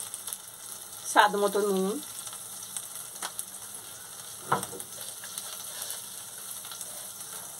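Cherry tomatoes frying in a pan for a pointed gourd and paneer kofta curry, a soft steady sizzle with a few stirring scrapes, while a person speaks briefly over it.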